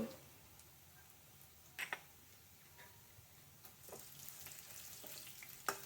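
Panch phoron, whole cumin and mustard seeds hitting hot oil for a sour jolpai (olive) curry, giving a soft, steady sizzle with a few small crackles and ticks, fairly quiet and without talk.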